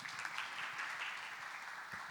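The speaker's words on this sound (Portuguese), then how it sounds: "Palmas para o Sérgio, pessoal." Applause from a church gathering for a man named Sérgio, a steady dense patter of clapping hands sustained throughout, fairly quiet and unbroken.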